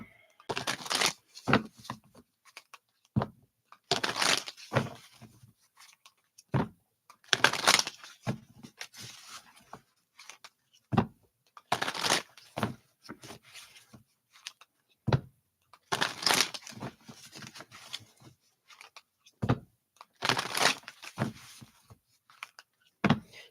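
Tarot cards being shuffled by hand, repeated crisp riffling and papery flutters in irregular bursts separated by short pauses, close and fairly quiet with no talking.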